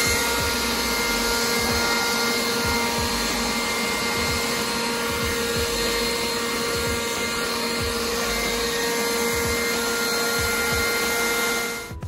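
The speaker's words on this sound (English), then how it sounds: "I'm gonna get my little leaf blower." A leaf blower gives a steady, loud motorized whine with a constant hum, running without a break in a backyard, then cuts off right at the end. No voices.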